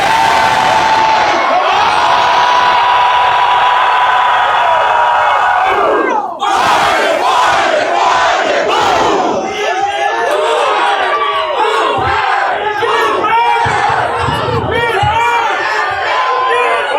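A large, loud crowd at a live event in Austin roars, cheers and shouts with battle-cry whoops, one sustained wall of noise followed by layered yelling voices, close and overwhelming.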